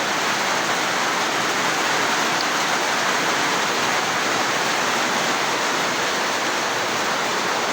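Heavy rain pouring steadily after a lightning storm, a dense, even hiss of falling water at constant loudness with no voices over it.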